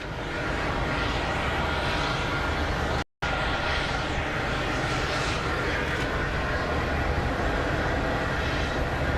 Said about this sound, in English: Yeah, the Globemaster. So we have one of those here at Sky Harbor right now.